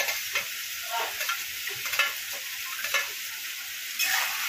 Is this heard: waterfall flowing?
no